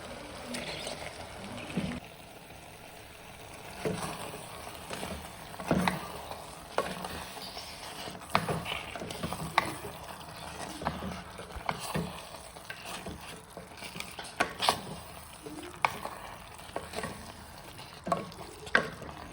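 Cleaned mutton pieces for a mutton curry hit a hot pan, with steady sizzling, frying and stirring clatter running throughout, punctuated by sharper scrapes and knocks of the utensil, moderately close and without talk.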